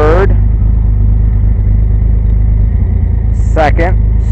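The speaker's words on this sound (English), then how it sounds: "he's now in third, and the wheel is just spinning extremely quickly" A car engine runs steadily in third gear with a drive wheel spinning fast during a transmission diagnosis, a loud continuous hum filling the clip while a voice speaks briefly at the start and again near the end.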